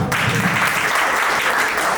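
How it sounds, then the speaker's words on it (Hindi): The crowd at a stand-up comedy open mic in a cafe breaks into dense, loud applause, a continuous wash of many hands clapping at once, close and full throughout. "तो उस बात के लिए जोरदार तालियां"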